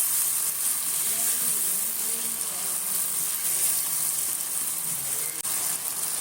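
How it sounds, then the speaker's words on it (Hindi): Chicken frying in a pan with spices, making a loud, steady, close sizzle that continues unbroken throughout, with a faint stir near the end. "चिकन को अच्छी तरह फ्राई करना है।"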